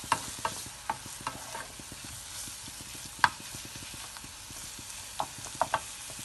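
Garlic sizzles softly in butter in a pan, close and fairly quiet, as a spoon stirs it with irregular light clicks and taps against the pan.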